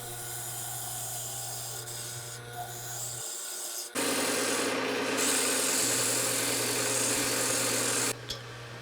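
A wood lathe turns a wooden bowl while its contour is shaped. A steady motor hum sits under it, and a rasping, scraping cut comes in partway through and grows louder before stopping near the end.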